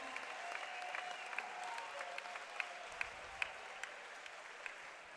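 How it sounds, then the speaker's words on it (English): Faint, distant applause from a small crowd at an amateur combat sports event, continuous clapping with a few sharper individual claps standing out. "Let's give a big round of applause for him"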